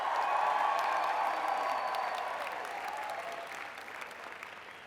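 Applause from a large audience at a university convocation, a broad, continuous wash of clapping with light cheering mixed in, full at the start and gradually tapering off.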